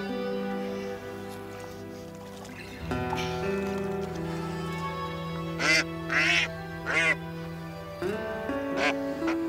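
Ducks quack in an estuary marsh, a run of loud nasal calls in a cluster near the end over a steady tonal background hum, close by with no speech.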